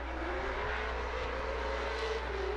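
Drift car engine at Orange Show Speedway during a HOTPIT Autofest competition, a steady droning rev held at high throttle with a faint rising whine, distant and fairly quiet over constant low rumble.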